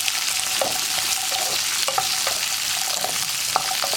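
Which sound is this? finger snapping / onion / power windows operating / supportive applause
onion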